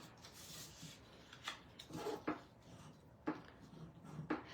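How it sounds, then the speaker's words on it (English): Folded Stampin' Up! designer series paper for a treat basket is burnished by hand, giving soft, close rubbing and scraping strokes in irregular bursts, quiet and alone with no voices. "I'm just gonna go ahead and give these a little bit of a burnish"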